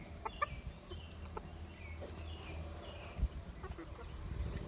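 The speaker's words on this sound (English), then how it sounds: "this is my favorite group of chickens" Chickens cluck softly in short, scattered bursts, fairly faint, with quiet rustling and a low background hum.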